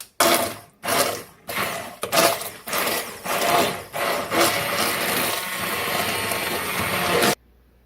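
A kitchen blender mixes pancake batter for sheet pan pancakes in several short pulses, then runs continuously before cutting off abruptly, loud and close.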